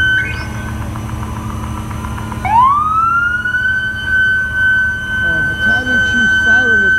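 An FDNY Battalion Chief's stuck siren winds up and holds a long, steady wail close by, over a rumbling engine, at a commercial fire, with a voice speaking briefly beneath it.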